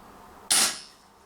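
One crisp pop from a Marlin 6mm CO2 revolver aimed at a target roughly 8 meters away, sudden and fairly loud, decaying quickly into quiet with no voices.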